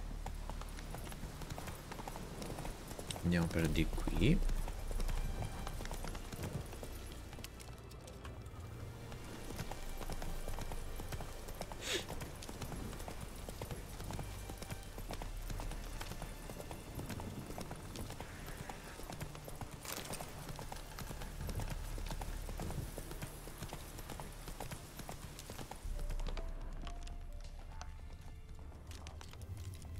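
Horse hooves clip-clop steadily at a riding pace in The Witcher 3 gameplay, loud and continuous over a low rumble of ambient game sound, with someone briefly speaking over it.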